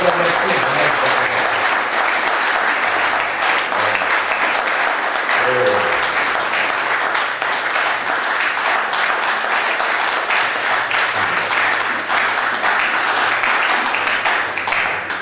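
A church congregation applauds and cheers at a sermon: sustained, loud, dense clapping mixed with crowd voices that holds steady for the whole stretch.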